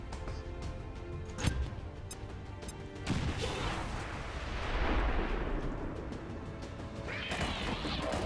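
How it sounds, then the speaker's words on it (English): In the video game XCOM 2 a truck explodes with a sharp crash, followed by a rolling, swelling burst of fiery rumble and debris. Softer impacts and crackles come before and after the blast, at a moderate distance and without speech. "this here should explode the truck, and with the truck explosion, the guy should automatically die"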